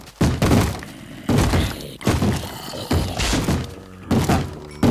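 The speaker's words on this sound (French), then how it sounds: "Et là ça va être l'explosion de la porte alors." Doors blowing apart in the survival video game DayZ: a series of about five heavy, loud thudding impacts with crunching, breaking debris, each striking hard and then decaying before the next one lands.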